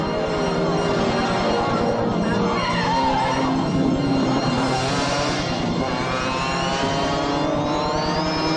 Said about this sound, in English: Enda Nolan shows that rally drivers like to do it in a spin.